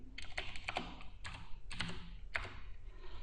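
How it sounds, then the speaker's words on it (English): Typing on a computer keyboard during 3D lighting work in Maya, with bursts of clicky keystrokes in quick irregular clusters, close and fairly clear, with no speech over them. "Still can't get used to my new keyboard layout, please excuse me."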